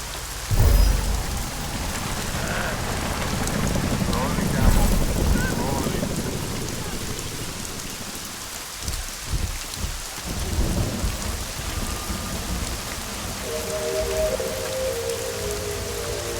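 Steady rain pours down in a video game, Deus Ex: Mankind Divided, with a rumbling thunder crack near the start and soft low rolls later, the downpour continuous and loud throughout, with no voices.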